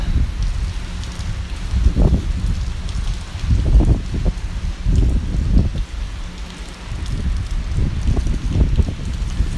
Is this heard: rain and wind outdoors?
yes